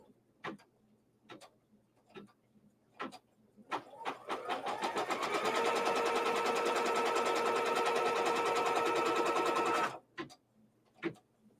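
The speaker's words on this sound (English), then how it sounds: "And now we're going to stitch it down." An embroidery machine stitches fabric down onto a quilt block in the hoop: a few scattered clicks, then a steady buzzing run of rapid stitching for several seconds, and a few clicks again as it stops.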